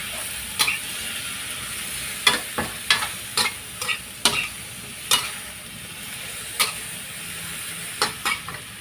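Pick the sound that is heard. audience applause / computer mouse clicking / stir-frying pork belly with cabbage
stir-frying pork belly with cabbage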